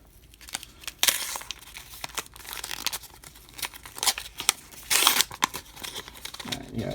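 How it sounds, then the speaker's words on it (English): White paper mail packets are torn and crinkled open up close, with several sharp rips and bursts of rustling at irregular intervals between quieter handling. "let's sort of tear through these white packets, and we'll see what is in here"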